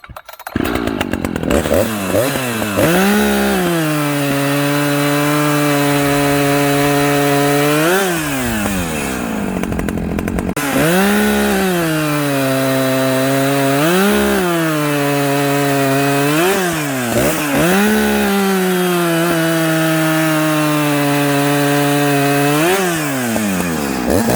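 An Echo CS590 chainsaw cuts wood while its carburetor is tuned, the engine repeatedly revving up to a loud, high whine and dropping back between cuts in a rising-and-falling pattern over about twenty-four seconds.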